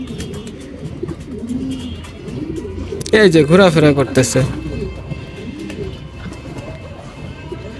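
A racing pigeon coos in a loft, a short run of throaty coos rising in the middle, with someone talking nearby throughout.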